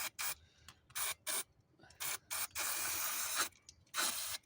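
Brake cleaner is sprayed onto an engine throttle body in short hissing bursts, several quick squirts followed by one long continuous spray and a final burst, close and fairly loud.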